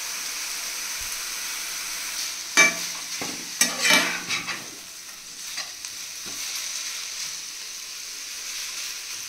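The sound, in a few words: mushrooms frying in a pan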